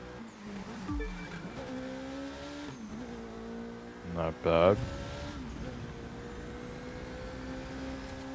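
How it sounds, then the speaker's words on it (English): A synthetic engine of a Ford GT in the racing game The Crew 2 drones and shifts pitch steadily, with a brief loud burst midway and a short spoken remark over it. "The car doesn't sound as nice as the other cars I've been driving tonight."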